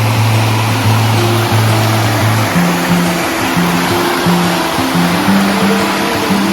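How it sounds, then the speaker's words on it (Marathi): Water runs steadily through a small stream held back by a little dam in hilly country, a continuous close rushing with a low hum beneath it. "पाणी चाललंय"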